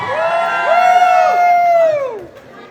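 Audience at a polka festival cheering for a guest called to the stage, a sustained loud whoop rising over crowd noise and fading out near the end.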